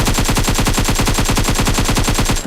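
Automatic gunfire in the video game PUBG Mobile, a loud, rapid, unbroken stream of evenly spaced shots running for the full two and a half seconds, close and alone without voices.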